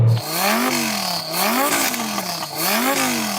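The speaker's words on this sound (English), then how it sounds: "So I am going to rev up this engine" A Lamborghini engine revs hard several times in quick succession, each rise climbing toward a soft limiter at 4,000 RPM before dropping back. The sound is loud and close, with no talking over it.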